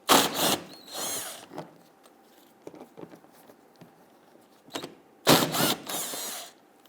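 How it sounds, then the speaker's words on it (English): A tool loosens and removes 10mm bolts across the bumper of a 2008–2013 Infiniti G37. Close, loud bursts of ratcheting or whirring come at the start and end, with lighter clicks and clatter in between. "Let's go ahead and loosen and remove these."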